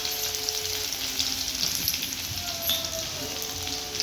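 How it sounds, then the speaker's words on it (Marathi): Cumin, mustard seeds and garlic paste fry in hot oil for a pale Marathi besan wadi recipe, making a steady, dense crackling sizzle that runs close throughout, with faint tonal hum beneath. "तर सगळ्यात आधी आपण तेलामध्ये टाकलेलं आहे जिरे मोहरी, त्यानंतर टाकलेलं आहे लसणाची पेस्ट"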